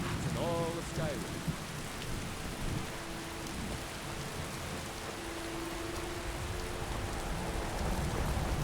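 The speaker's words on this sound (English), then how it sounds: "Wow, it's really raining." Steady, dense rainfall in the PC game Skyrim Special Edition with immersive mods, a continuous hiss of drops on surfaces holding evenly throughout, with a brief tonal sound near the start.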